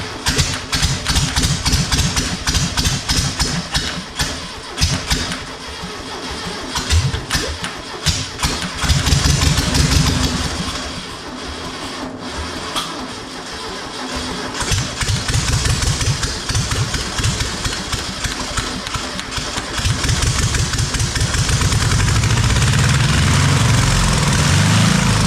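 A small carbureted engine cranks with rapid sputtering pops, catches and runs roughly, then settles into a loud, steady close-up drone that continues for the rest of the clip.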